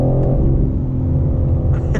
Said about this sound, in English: It's so, you can hear the burbles now like crazy.